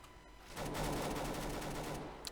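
Gunfire from a UMP submachine gun during a competitive video game match: a dense, sustained rattle of rapid shots over steady background noise, moderately loud and continuous for about two seconds.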